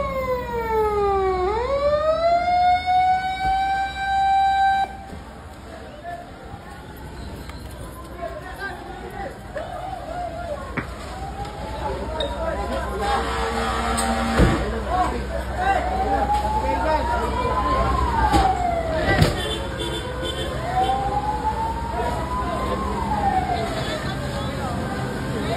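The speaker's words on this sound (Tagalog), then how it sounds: "fire truck ng South Sembo" Fire truck siren wailing through a street fire scene on Antipolo Street in Guadalupe Nuevo, Makati City, rising and falling repeatedly over crowd chatter, fairly loud and sustained throughout.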